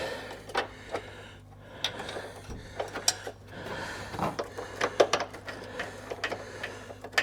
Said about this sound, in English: I'm going to get a wrench and just tighten these with a wrench.